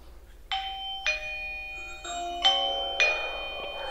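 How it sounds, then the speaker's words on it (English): A battery-operated eufy doorbell press is announced through an Alexa smart speaker as a series of clear, ringing chime tones, five struck notes in quick succession in a quiet indoor room. "Now, if I press the doorbell press,"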